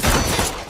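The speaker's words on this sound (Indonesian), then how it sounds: "terjadi aksi baku tembak hingga membuat Seamus kehilangan banyak anak buah" A burst of rapid gunfire from a film shootout in a hired-killer action movie, loud and dense for under a second before cutting off.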